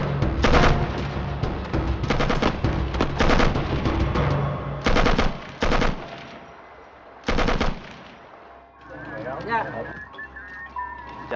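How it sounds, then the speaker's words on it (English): Loud, close bursts of automatic gunfire and rifle shots in a Vietnam War rescue reenactment, several rapid volleys separated by short gaps, giving way to quieter movement and water-like sounds toward the end. "they came under attack. Norris lay down cover fire"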